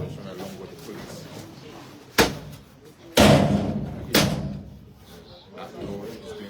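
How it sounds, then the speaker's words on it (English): Fire and rescue crews force open a locked door during a police-backed eviction at an office headquarters, with three loud, heavy impacts a second apart over a low murmur of background activity. "That door is being broken into."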